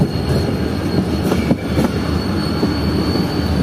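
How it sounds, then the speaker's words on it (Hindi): Pakistan Railways 8 Down Tezgam Express, a long train with AC standard, business class, AC sleeper and economy coaches, arriving at Karachi, its wheels rumbling steadily and squealing on the rails throughout, loud and close with no talk. "कराची पहुंची है ये 8 डाउन तेजगाम एक्सप्रेस"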